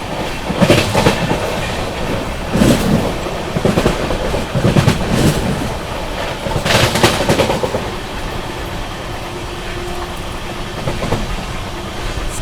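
Mahabodhi Express running at speed through Subedarganj station, a steady rumble with rhythmic clickety-clack wheel beats and several sharper bursts as it passes points, loud and close throughout.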